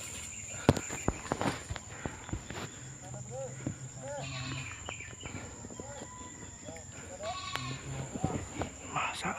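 Goats bleat several times in short, wavering calls scattered across an outdoor scene, mixed with footsteps, rustling and some faint talk.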